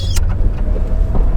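A BMW M1 rolls into a workshop, a brief, close burst of low engine rumble mixed with a few sharp mechanical clicks.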